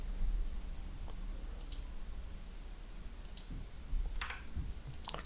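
Sparse computer mouse clicks while building a mobile app in Construct 3, a few short separate clicks spread over several seconds against a quiet room hum, with no talking.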